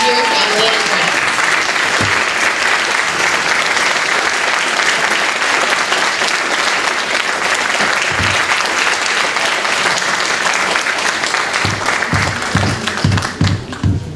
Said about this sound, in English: give a big round of applause to your family and friends.